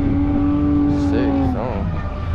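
A car drifts at a drift meet, its engine sounding as a steady, loud, droning whine with rising and falling pitch from a nearby run, while people talk over it.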